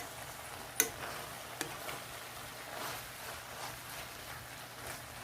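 Beef sizzling as it is stir-fried for japchae, a soft, steady frying hiss with a couple of sharp clicks of a utensil against the pan.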